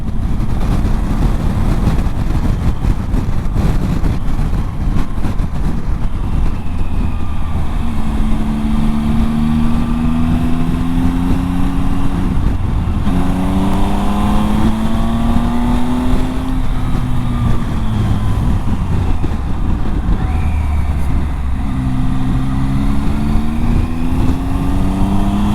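A Triumph Tiger 800 adventure motorcycle rides along busy weekend roads, its engine droning steadily and rising and falling in pitch through several gear changes, loud and close over constant wind rush.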